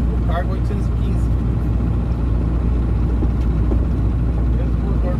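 Ford Cargo 712 truck with a Cummins 3.9 diesel engine running, a constant low rumbling drone heard close and steady throughout, with a few faint higher sounds at the start.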